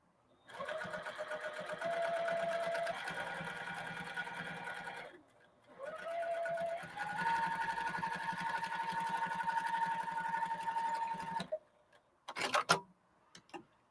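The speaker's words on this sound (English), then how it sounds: "now I'm going to sew up from this line, and I'm going to reinforce" A sewing machine stitches a reversible holiday handbag in two long steady runs of fast, even mechanical whirring with a brief pause between them, ending with a few clicks and handling noises.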